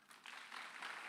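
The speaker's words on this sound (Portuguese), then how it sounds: "Aplauda o Senhor, irmão." A church congregation applauds during a sermon, a steady dense wash of clapping that holds for about a second without any clear voice on top.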